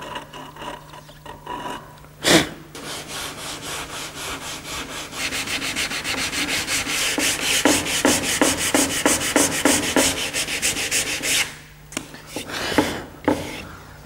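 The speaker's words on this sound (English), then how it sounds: "All of the pieces have to be sanded because we want to remove all of the remnants of the old Estapol." Old furniture pieces are hand-sanded to strip the old Estapol finish, a close, loud, rhythmic back-and-forth rubbing that speeds into fast regular strokes, with a few knocks at the start and end, and no talking.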